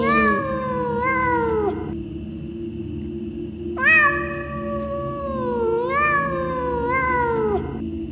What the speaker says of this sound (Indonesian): Terdengar sayup-sayup suara kucing dari rumah kosong di sebelah rumah